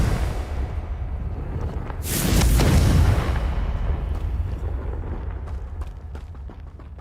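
A Confringo spell explodes in Hogwarts Legacy as one loud, rumbling blast that swells and then fades over a second or two, set against steady background ambience.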